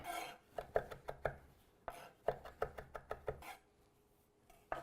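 Knife chopping fresh sage leaves on a cutting board, about a dozen crisp knocks in uneven bursts with brief pauses between them, close and clear with no talking.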